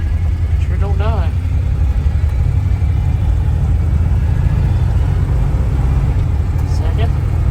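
A 1979 Dodge Ramcharger's engine runs with a steady, loud, low rumble after sitting for 15 years, with a faint whine briefly rising over it and people talking.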